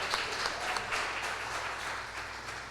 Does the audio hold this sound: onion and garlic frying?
no